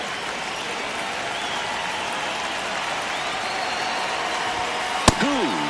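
Crowd noise at a 9th-inning baseball game in a close one-run contest, a steady broad roar of cheering that holds throughout, with a sharp bang near the end.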